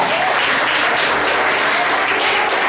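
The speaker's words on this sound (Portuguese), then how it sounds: "Então dá uma salva de palmas." Dense, steady applause from a church congregation at an evening service, loud and continuous for the whole stretch with a few voices faintly mixed in.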